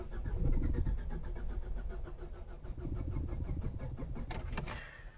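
A car engine, fuel-starved, cranking on a lithium iron phosphate (LiFePO4) battery: rapid rhythmic cranking pulses at close range without catching, followed by a brief jangle of keys near the end and no speech.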